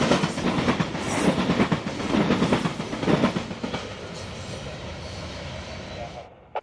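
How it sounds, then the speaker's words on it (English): Loaded Big Bend coal train rolling past, a loud continuous rumble with rhythmic clickety-clack of wheels over rail joints, gradually easing off toward the end. "After the Big Bend coal train passes"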